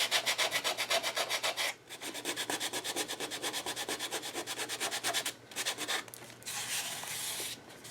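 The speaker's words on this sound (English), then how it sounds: "I'm bringing in the purple fine sandpaper, and I'm just going to go over the dots a little bit" Fine purple sandpaper is rubbed over the dots on a mixed-media art journal page in quick, rhythmic back-and-forth strokes. The raspy scrubbing is close and steady, pausing briefly a few times, with no talking.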